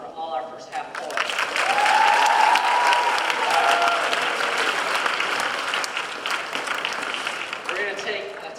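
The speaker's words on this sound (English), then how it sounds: "Give a round of applause for all our first half poets." A poetry slam audience applauds the first-half poets, a full room of clapping that swells and holds steady, with a voice speaking briefly over it near the start and again at the end.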